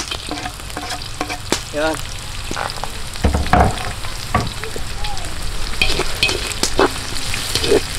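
Garlic sizzling steadily in a hot pan while being stirred, with scraping clinks of the utensil across the pan throughout, fairly close and loud, a brief word spoken at one point.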